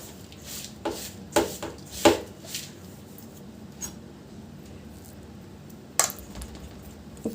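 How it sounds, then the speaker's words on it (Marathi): Hot ladoo mixture stirred quickly with a spoon in a metal pan, heard as a string of sharp scraping clinks and taps at an uneven rhythm, close by, with quieter stretches between strokes. "याला गरम आहे तोपर्यंत त्याला पटपट पटपट मिक्स करायचं"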